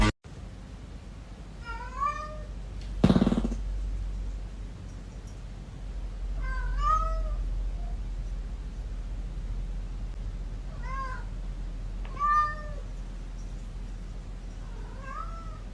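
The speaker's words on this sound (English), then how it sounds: "One of them has a really sweet meow, and one of them sounds like she's been smoking for the past 50 years." Two cats meow several times, one with a sweet, high meow and the other with a rough, raspy one, in short separate calls spread across a quiet room, with one loud thump near the start.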